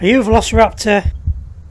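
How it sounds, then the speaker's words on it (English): Low, deep heartbeat thumps in the dinosaur hunting video game Primal Hunt, pulsing steadily as a man's short spoken question ends, then continuing briefly alone. "My heartbeat's really pumping now"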